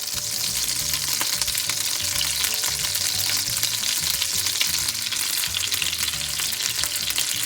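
Chicken pesto rolls fry in a pan of olive oil and butter, giving a loud, steady, crackling sizzle that carries on without pause and without talk.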